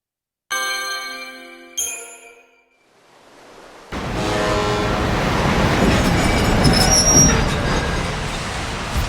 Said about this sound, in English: The train will leave soon.